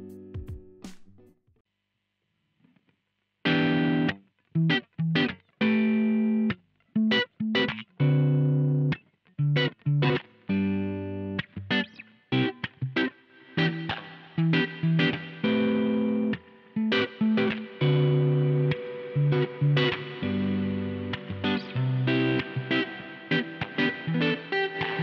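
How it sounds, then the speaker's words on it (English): An electric guitar played through a NUX Atlantic delay and reverb pedal plays a long passage of notes and chords with echoing repeats and a spacious reverb tail, no voices. "The reverb section of this pedal also has three modes: spring reverb, plate reverb,"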